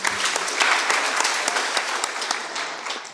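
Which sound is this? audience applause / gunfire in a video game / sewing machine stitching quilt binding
audience applause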